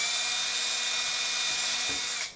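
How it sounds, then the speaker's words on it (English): Power drill boring a hole into the hard plastic housing of headphones, a steady high-pitched whine held close and loud, then spinning down abruptly at the end. "I'm going to drill"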